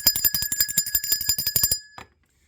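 A bell rings in rapid repeated strikes for nearly two seconds, loud and close with a sustained metallic ring, then stops abruptly and leaves silence.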